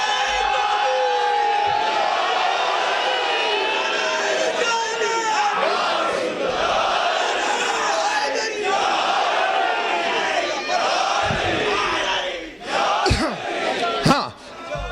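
A crowd at a Muharram majlis roars a religious naara together, loud, massed voices rising and swelling continuously for several seconds, with a few sharp shouts and claps near the end.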